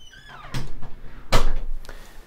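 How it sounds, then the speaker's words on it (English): A house door opening and closing as someone walks in from the garage, heard as two or three soft thumps and latch clicks at moderate distance, with faint voice traces at the start. "and going through the first door into the house."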